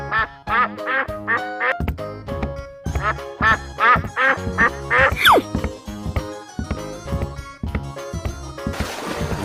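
Cartoonish duck quacks from a 3D animal slide game, a rapid string of loud, bright calls repeated many times over cheerful game music and sound effects, ending in a burst of noisy clatter.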